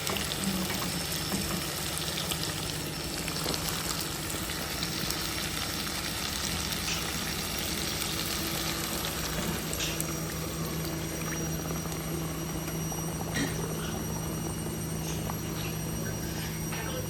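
Fish sizzling steadily in hot oil with black cumin in a wok, a dense, even crackle running without pause throughout, close and fairly loud, with no talking.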